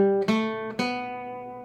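Two bright plucked guitar notes from a B Locrian scale ring out clearly in a close, quiet room, each decaying slowly with no talking.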